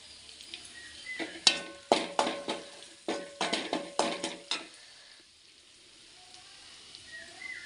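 Garlic and curry leaves sizzling in hot oil for a fish curry, with a spoon stirring in a quick series of scraping strokes close by, and the sizzle easing to a soft hiss afterward.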